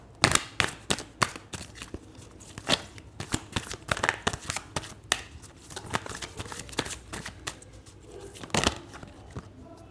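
A Sai Baba oracle card deck is shuffled by hand in close, crisp bursts of riffling and slapping card noise, the uneven flurries repeating throughout with no speech.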